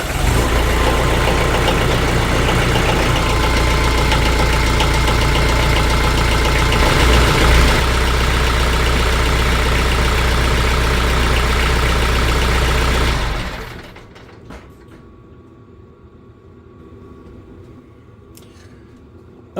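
A car engine idling steadily and loudly after an oil change, a continuous close running hum that cuts off abruptly near the end, leaving only faint background noise.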